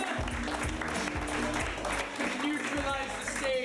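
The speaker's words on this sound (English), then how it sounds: "Everyone, give a round of applause for them." A comedy club crowd gives a band a round of applause, dense clapping that carries on for several seconds while a voice talks over it.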